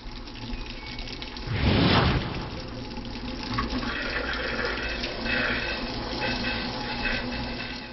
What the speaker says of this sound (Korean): 수도꼭지에서 맑은 물이 나오기 시작하는데요